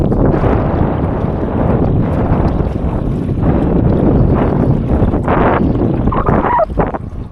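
Strong wind at sea off Greece during wingfoiling, a loud steady rushing roar buffeting the microphone throughout, with a faint voice near the end.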